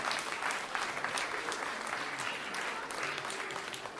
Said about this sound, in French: Applaudissez-vous, vous êtes formidables.